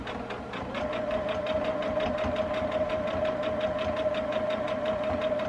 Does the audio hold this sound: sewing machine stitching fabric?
yes